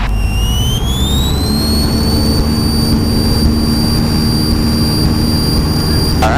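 A small training airplane's piston engine runs at full power, a steady loud drone that fills the cabin and holds constant throughout, with faint rising whine tones above it and no talk.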